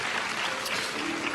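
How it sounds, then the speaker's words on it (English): A church congregation claps together in a short, steady burst of applause that fills the room evenly, with no break. "Clap, clap, clap, clap,"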